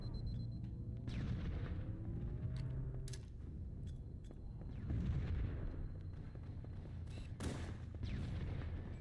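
Grenade blasts and gunfire in the video game Halo, a steady dense mix of booms, shots and crackling effects throughout, with several sharp reports standing out and no talk.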